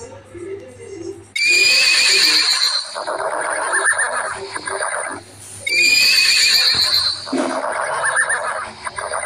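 Horses neigh loudly in a rugged story setting, with two long, shrill whinnies that rise and fall in turn over a low rumble, and faint hoofbeats suggest horses arriving.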